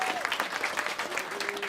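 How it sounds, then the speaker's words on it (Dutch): Audience applause welcoming Frisian performer Joop Obama on stage, a short dense burst of clapping with a voice faintly over it. "Applaus voor Joop Obama."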